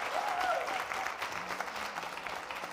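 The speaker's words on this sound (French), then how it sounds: "Public, est-ce qu'on peut s'applaudir très fort?" A TV studio audience applauds with brisk, dense clapping for a few seconds, moderately loud, with a faint vocal tone over the start.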